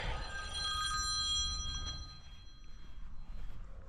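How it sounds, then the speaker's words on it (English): An incoming work call rings on a telephone in a truck workshop, with a bright bell-like ring in the first half that then fades, leaving low background noise. "hang on, this is work, I need to answer this call"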